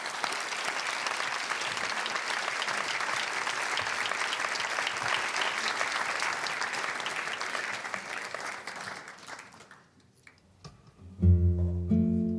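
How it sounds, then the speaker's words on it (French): Applause from the audience at an awards ceremony swells loud and sustained for about nine seconds, then fades out quickly as music begins. "Applaudissez très, très fort Anousha Nazari."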